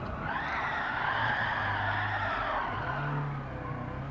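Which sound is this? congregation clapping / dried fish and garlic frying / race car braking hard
race car braking hard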